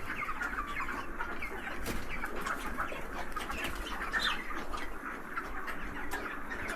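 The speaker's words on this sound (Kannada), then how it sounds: "ಇದು ಬಾಯ್ಲರ್ ಚಿಕನ್" Broiler chickens inside a small poultry shed, a dense, steady chorus of many birds clucking and chirping together, close and continuous with no talk over it.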